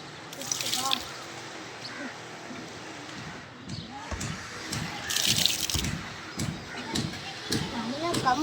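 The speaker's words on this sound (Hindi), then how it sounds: "पानी निकाल देते हैं।" Dirty water drains and splashes out of a water tank being cleaned, a close, uneven sloshing and trickling with gurgles and bursts, with voices talking over it.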